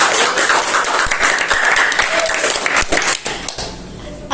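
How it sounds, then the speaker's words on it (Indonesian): Loud applause from an audience at a talk with silat martial-arts practitioners, a dense burst of many hands clapping that runs steadily before tapering slightly near the end, with no talk over it. "Oke, tepuk tangan dulu dong."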